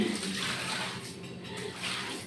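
Water runs in a steady stream from an open kitchen faucet, a continuous hiss and splash at moderate level that dips briefly midway and then resumes, with no speech over it.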